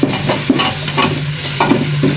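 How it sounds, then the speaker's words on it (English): A spoon stirs salted plantain and meat stew in a pot, producing rhythmic scraping strokes over a continuous sizzling simmer, close and fairly loud with no talking. "Add the salt. And then mix it well."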